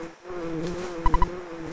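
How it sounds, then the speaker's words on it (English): A continuous electronic buzzing drone from a space bee in the video game EarthBound, with steady tonal hum, interrupted by three quick beeping pulses, loud and close, with no talking. "It's a fucking space bee!"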